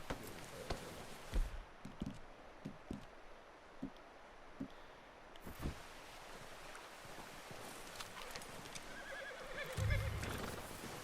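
A horse in the Red Dead Redemption 2 video game whinnies and snorts amid soft hoof clops and faint ambient wash, with scattered quiet thumps, fairly close and moderately loud.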